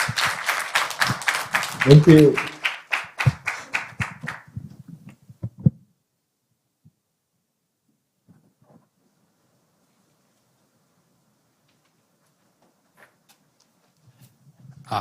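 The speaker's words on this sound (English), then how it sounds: "So let's give them another round of enthusiastic applause." Enthusiastic audience applause fills a conference hall at an academic session, a dense burst of clapping that runs for about five seconds under a brief spoken thank-you, then cuts off into near silence.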